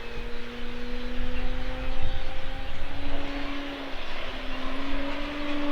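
An E-flite T-28 Carbon-Z radio-controlled model airplane's engine whines steadily overhead, its pitch shifting slightly as it flies aerobatically, with a constant rushing noise throughout.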